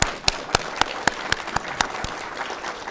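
Audience applause for master's graduates in health informatics at a 2013 graduation ceremony: a steady wash of crowd clapping, with one clear clap standing out in an even beat about four times a second.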